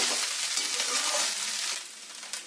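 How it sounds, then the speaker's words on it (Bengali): Paneer fried rice with raisins is stirred in a hot pan, a steady close sizzle with scraping spoon strokes that eases off toward the end. "এতে দিয়ে দেবো কিশমিশ, দিয়ে ভালোভাবে নাড়িয়ে নেব।"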